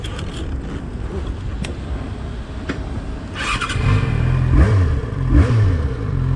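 An inline-four motorcycle engine idles and then revs up as the rider pulls away, rising pitch sweeps over loud wind rush on the helmet microphone.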